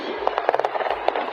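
Gunfire at the Kansas City Chiefs victory parade shooting: a rapid, uneven string of sharp cracks and pops over a loud, noisy crowd.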